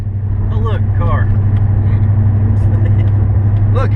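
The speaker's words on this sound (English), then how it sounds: "Look, here comes a car down the road." A car on a road at night, heard from a vehicle hauling a boat home, giving a steady broadband road and engine rumble throughout under the hum of the towing vehicle, with a speaker's voice over it.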